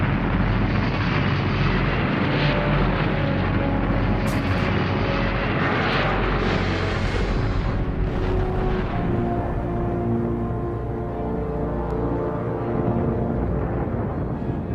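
A rocket engine ignites and roars through launch in a dense, loud, sustained rumble that fills the whole stretch, thinning slightly toward the end.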